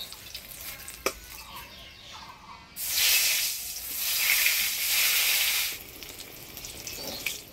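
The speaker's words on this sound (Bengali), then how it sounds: "এবার কালিয়া রান্নার জন্য বেগুনটা ভাজে নিব।" Eggplant drops into hot oil in a pan for kalia and bursts into a loud, close sizzle that holds steady for several seconds, then eases to a quieter crackle.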